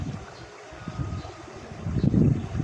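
Gusty wind buffets the microphone with a low rumble that swells louder near the end, with no voices.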